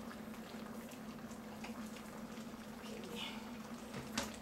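A pot of peanut brittle candy mixture boils on a home kitchen stove, a steady low bubbling simmer held at a quiet level throughout, with a brief spoken word near the start.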